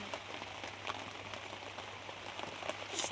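Rain falls in a soft, steady patter, faint and distant, over a low constant hum.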